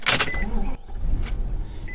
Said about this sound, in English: Engine fires up.